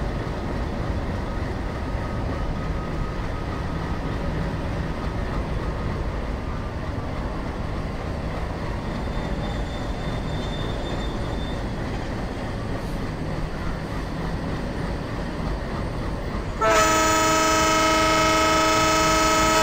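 A WDM3D diesel locomotive hauling the Duronto Express in an Indian train simulator game gives a steady, loud engine rumble, then a sustained horn blast near the end.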